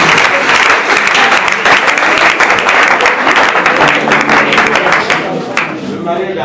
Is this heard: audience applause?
yes